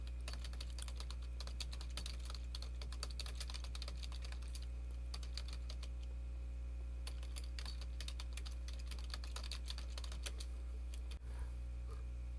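Steady computer keyboard typing of text into a word processor, a continuous fast patter of key clicks over a low electrical hum, close and moderately quiet, with no talking.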